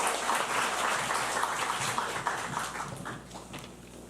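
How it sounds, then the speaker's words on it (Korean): A church congregation at a Sunday service in Osaka welcomes a speaker with warm applause, a thick wash of clapping from many hands that stays full throughout and eases slightly at the close. "큰 박수로 한번 환영해 주세요."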